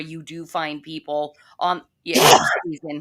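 A single loud, explosive sneeze bursts out mid-conversation, sharp and close, with people talking before and after it.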